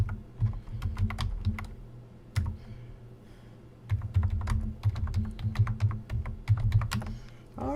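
Fingers typing on a computer keyboard, a near, steady patter of light key clicks in quick bursts with brief pauses, over a low background rumble.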